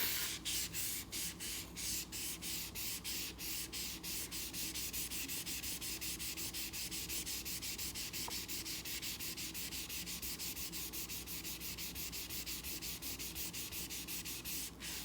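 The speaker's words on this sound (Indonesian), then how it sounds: "jangan diamplas mejanya Kin" Sanding or rubbing on a tabletop, a steady, close, rasping scrape with rapid regular strokes running continuously without pause and no voices.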